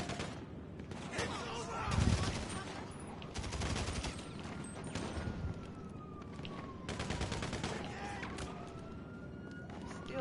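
AK assault rifle gunfire in Grand Theft Auto Online, repeated bursts of automatic shots crackling in clusters amid other distant game gunfire and a rising engine-like whine, with a voice talking faintly in the background.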